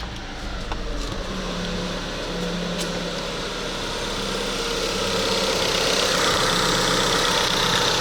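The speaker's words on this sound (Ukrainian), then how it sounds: "коли я даю газу і трошки більше прогрівається двигунець" A car engine idles while warming up, then climbs gradually as it is given throttle; coolant seeps from the radiator cap. The low steady hum grows slightly louder and fuller toward the end, close by, with no speech.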